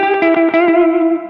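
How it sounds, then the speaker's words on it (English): An electric guitar note runs through a TC Electronic Infinite Sample Sustainer pedal with a wet reverb sound on the direct signal. It rings as a single sustained, chorused tone that slowly fades, with no other sounds around it. "the pedal's off, the reverb light is still on, but I have no tail coming in, but I have wet sound on my direct guitar"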